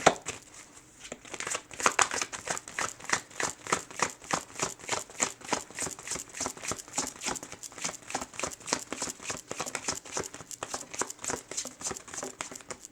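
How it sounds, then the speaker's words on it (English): Tarot cards being shuffled by hand, a long run of rapid, rhythmic riffling and crinkling bursts, close and steady, without talk. "Sometimes I shuffle just to make sure."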